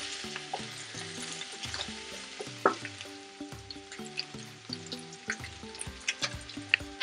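Beef tripe seasoned with oregano, basil, cumin and pepper is stirred in a pot, giving a low sizzle with irregular scraping clicks over a steady tonal background.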